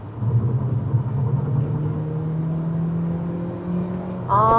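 A Hyundai Avante engine in sport drive mode heard from inside the car, a steady low rumble with a rising tonal drone as it revs, then a brief higher burst at the end.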